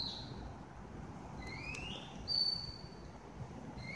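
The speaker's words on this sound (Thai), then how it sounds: "ให้ฟังเสียงนกค่ะ" Birds chirp in short, faint whistled notes, some rising and some sliding, over a steady outdoor rush of wind and rain on a stormy day with snow about.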